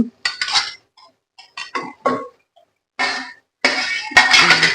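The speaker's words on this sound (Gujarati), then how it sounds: "હવે આપણે મિક્સ કરી લઈશું" Spatula stirring whole eggplant curry in a pot with tomato gravy, a series of short irregular scrapes and clinks of metal against the pot, close and separated by brief pauses.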